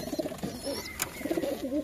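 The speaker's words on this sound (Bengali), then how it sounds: "তো এটা হলদেগুটি লাইনের পুরনো ব্লাড লাইনের পায়রা" An old-bloodline Haldegooti pigeon coos close by, with a couple of soft, throaty bursts of rolling notes separated by a short pause, quiet and free of talk.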